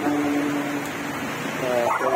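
Several pet dogs, among them a Chihuahua, Bulldog and Corgi, yip, whimper and bark during play in the rain, close by and fairly continuous, with people talking over them.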